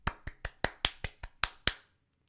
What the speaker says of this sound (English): I will applaud.